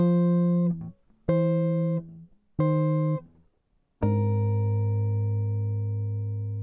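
Four fingerpicked guitar chords ring out one after another, each decaying briefly before the next, the last left to sustain.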